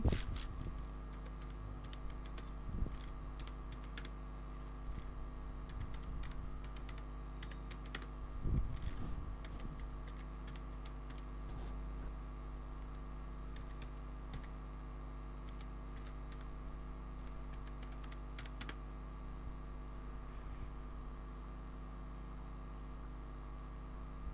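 Quiet clicking of a computer keyboard in short bursts of keystrokes with pauses between, over a low steady hum, with no voices.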